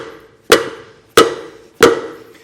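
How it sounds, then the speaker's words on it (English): Three sharp, loud metallic strikes on the end of a screwdriver prying out a trailer hub seal, spaced about two-thirds of a second apart, close by with short ringing decay. "I'm going to hit the end of my screwdriver to help pop it out"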